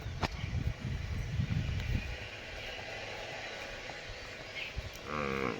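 A cow lets out a low moo, followed by another rising call near the end, over a quiet outdoor background.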